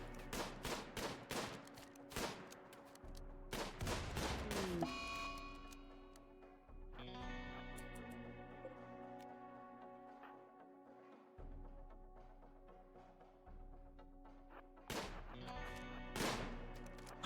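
Video game gunfire in an explosive battle scene: sharp bursts of shots in clusters, with ringing tonal effects and sustained hums between volleys, loud and close.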